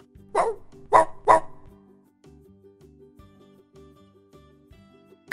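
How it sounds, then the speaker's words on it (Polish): A dog barks three times in quick succession, the barks close and fairly loud, followed by light background music and no speech. "Pies."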